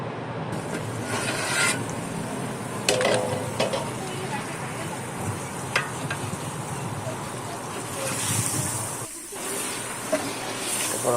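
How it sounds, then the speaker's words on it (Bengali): Meat and spices sizzle with a steady hiss while being stirred in a pot over a village wood-fired stove for biryani, with occasional scraping clatter and a person talking over the cooking. "সুন্দরভাবে নেড়ে চেড়ে দিতে হবে যাতে মশলাগুলো মানে মাংসের সাথে খুব ভালোভাবে মেশে এবং কোনো জায়গায় যেন পুড়ে না যায়"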